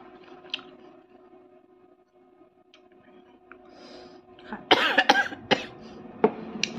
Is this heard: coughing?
yes